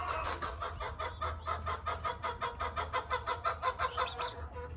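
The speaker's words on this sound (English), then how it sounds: "Look at the roosters." Roosters and hens on a small farm flock cluck in a rapid rhythmic series of close, loud calls that grow more pronounced toward the end, with no talking.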